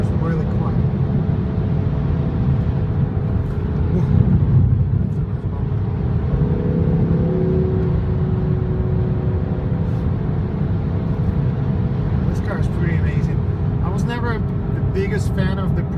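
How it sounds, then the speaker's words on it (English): Steady engine exhaust drone with broad wind rush inside a moving 2015 BMW M4, continuous and fairly loud throughout, with someone talking over it. "you hear the exhaust, you hear a lot of wind noise"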